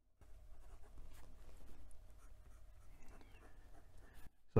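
Steel stub nib of a Narwhal Nautilus ebonite fountain pen scratches faintly across paper, soft close strokes with brief pauses, a quiet papery scraping rhythm alone in a hushed room.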